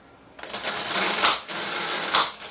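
A Kawasaki 12V DC impact wrench hammers at a nut to loosen it, giving a loud, close, buzzing rattle that surges twice over a couple of seconds and then cuts off.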